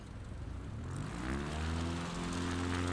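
Propeller plane engine in Microsoft Flight Simulator, an Alaska bush flight, with a steady droning hum that rises in pitch and loudness as the engine throttles up, continuous and close.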